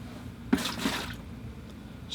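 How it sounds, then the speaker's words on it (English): Water being poured and sloshed while changing the rinse water for watercolor painting, a couple of brief splashy pours close by, alone without talk. "So I'll change my water."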